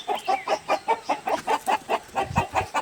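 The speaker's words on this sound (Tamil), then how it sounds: "கோழிங்களாம் சேர்ந்து ஏன் இப்படி சத்தம் போட்டுட்டு இருக்க?" A flock of cartoon chickens in a Tamil children's animation clucking noisily in a rapid, steady rhythm, many birds calling at once close by.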